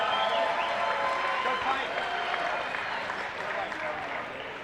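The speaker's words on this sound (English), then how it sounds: "Let's give both of these fighters a big round of applause." A fight-night crowd at a Shamrock FC event applauds both fighters after the bout, a dense, continuous roar of clapping that stays loud and fades slightly toward the end.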